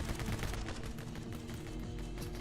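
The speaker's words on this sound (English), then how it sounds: "it took like 7 shots to kill." A video game weapon with limited ammo fires a steady stream of gunshots, fairly quiet and continuous, with no talking over it.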